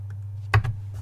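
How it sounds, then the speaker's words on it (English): Two or three quick keystrokes on a computer keyboard's arrow keys while nudging objects in a design editor, close and crisp over a steady low hum, with no talking. "So I'm just using my arrow keys to nudge these."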